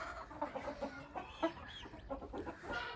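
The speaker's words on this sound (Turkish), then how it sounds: "Tavuk da şarkı söylemeye başladı." A hen clucks in a run of short, soft, throaty notes, close by and fairly quiet, with a low background hum.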